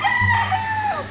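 A stag rooster at a game farm crows once, a close, loud call lasting about a second with harmonic tones over low background hum.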